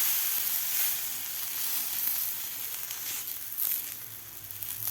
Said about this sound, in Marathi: तर दुसरं सुद्धा आपण थालीपीठ थापून घेतलेलं तव्यावर घालून घेऊया.